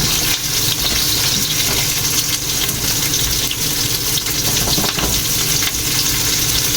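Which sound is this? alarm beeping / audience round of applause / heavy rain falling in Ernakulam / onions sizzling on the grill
onions sizzling on the grill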